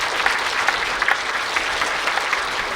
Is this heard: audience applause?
yes